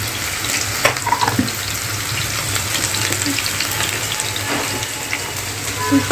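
Cluster beans (guar) fry in hot oil with a steady bubbling, watery hiss, close and continuous, with a few faint clinks and no talk.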